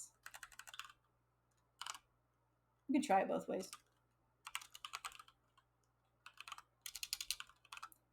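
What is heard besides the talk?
typing on a computer keyboard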